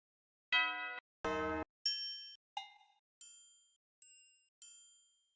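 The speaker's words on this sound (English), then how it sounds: "Let's see if we can find a bell to layer with it." Bell tones auditioned in Ableton Live for layering in generative music ring out one at a time, seven separate struck notes with decaying tails, the first two lower and fuller, the rest bright and high-pitched.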